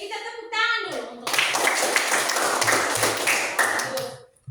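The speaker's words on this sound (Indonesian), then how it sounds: "Selanjutnya sekarang kita tepuk tangan dulu" Classroom clapping by a group of schoolchildren: a short spoken phrase, then a burst of hands clapping together in quick, dense rhythm for about three seconds before fading out.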